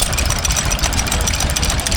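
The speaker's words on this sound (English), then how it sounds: "It's a kerosene engine." A Roseberry kerosene stationary engine from Australia, driving a generator set at a rural show, runs steadily at idle with a loud, close, even low thumping rhythm and mechanical clatter.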